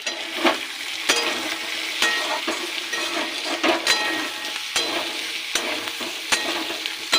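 Potatoes sauté in a pan with salt, turmeric, cumin, coriander and chilli powder, a constant sizzle broken by sharp scraping strokes of a spatula stirring at an irregular pace.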